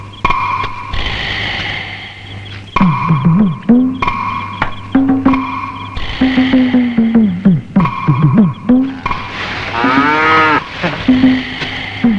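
A cow moos repeatedly, long drawn-out lowing calls spaced through the clip, loud and near, with one higher, wavering call toward the end.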